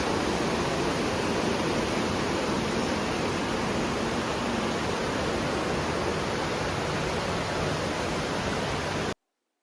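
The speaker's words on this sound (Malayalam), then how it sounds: "ഈ വെള്ളത്തിൻ്റെ ഒരു കലകല സൗണ്ടാണ് കേട്ടോ കേൾക്കുന്നത്" A stream babbling steadily near a house in Vagamon, heard as a continuous, even rush of water with no break until it cuts off abruptly just before the end.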